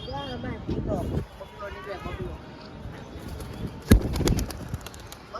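Pigeons coo softly among people talking nearby, with a few sharp knocks and rustles partway through.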